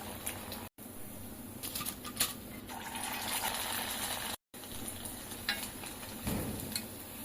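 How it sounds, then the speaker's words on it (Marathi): Sabudana vada frying alone in shallow oil in a kadhai, a steady soft sizzle and crackle with faint patter and stirring, moderately near, no talk. "मी इथे कढईमध्ये कमी तेल घातलेलं आहे, त्यामुळे मी एकच वडा तळत आहे."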